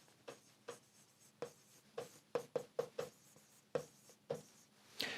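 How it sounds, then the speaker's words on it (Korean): Handwriting with a pen on paper, quiet close strokes and taps arriving in irregular short bursts as letters are formed. "한번 써보겠습니다."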